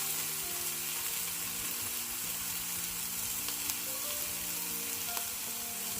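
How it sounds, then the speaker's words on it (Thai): Ridge gourd stir-fries in a pan with a steady, close sizzle and faint scraping of the spatula throughout six seconds, no voices. "ผัดบวบเลย"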